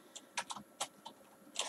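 Computer keyboard keys tapped in a short, irregular run of about seven distinct clicks, quiet and close, with no voices.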